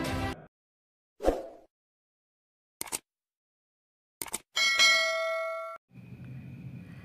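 A notification bell sound effect: a few short clicks and clangs, then a bright, ringing chime that holds for about a second before fading into a low background tone.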